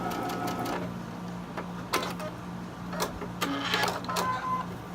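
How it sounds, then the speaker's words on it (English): Sewing machine stitching fabric for a Halloween sew-along project, a steady close mechanical hum with a low drone and scattered clicks throughout. "Let's just sew this one on."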